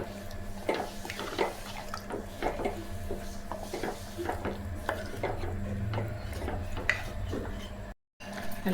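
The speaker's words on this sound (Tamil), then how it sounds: "நல்லா கொதிக்குதுங்க." Chicken gravy boiling in a pan, with a steady run of soft bubbling pops and small clinks close by under a low background hum.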